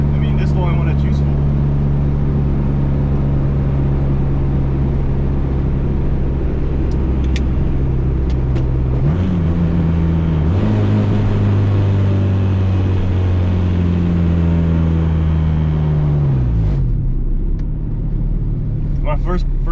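Interior of a Honda Integra with a B20 engine swap and stiff motor mounts, driving: loud, steady low engine drone that rises and shifts pitch mid-clip, with voices talking over it.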